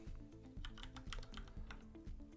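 A password being typed on a computer keyboard while setting up an Aruba 6000 network switch: a quiet run of distinct keystrokes in uneven rhythm over a constant low background hum.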